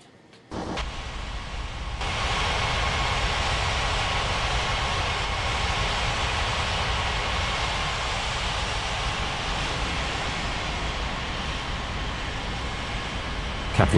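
An airliner landing in an air traffic control mobile game, Unmatched Air Traffic Control 2023, gives a steady, loud engine roar that rises suddenly after a brief quiet start and holds evenly throughout.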